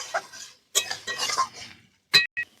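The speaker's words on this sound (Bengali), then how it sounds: "পেঁয়াজটিকে ভালো করে নাড়াচাড়া করে লাল লাল করে ভেজে নেব।" A utensil stirs onions frying in a pan for a homestyle desi chicken curry, producing sporadic scrapes and sharp metallic clinks with short gaps between them and no voices.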